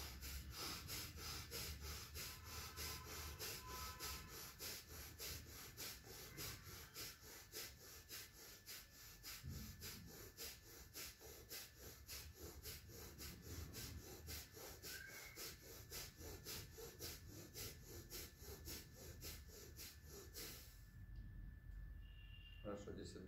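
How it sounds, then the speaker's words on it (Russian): Kapalabhati breathing with forceful active exhalations in a morning body-activation routine: rapid, evenly spaced sharp nasal puffs repeat dozens of times in a steady rhythm, close and fairly loud, then stop near the end. "Вот я сейчас покажу 36 раз дышим."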